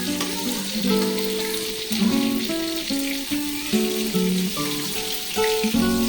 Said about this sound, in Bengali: আমাদের চিংড়ি মাছটা মোটামুটি ভাজা হয়ে গেছে